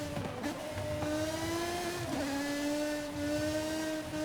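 An S1-class race car in Forza Horizon 5 drones along at high revs, its engine tone holding steady with slight dips and a brief shift, loud and close with no talk over it.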